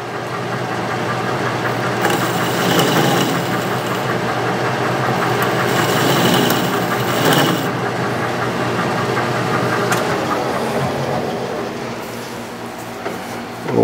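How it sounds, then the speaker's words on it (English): Sheldon metal lathe running steadily while a turned part is deburred, a loud continuous mechanical drone with rattling vibration and occasional scraping accents, close and unbroken throughout. "Let's go ahead and deburr that before I take it out."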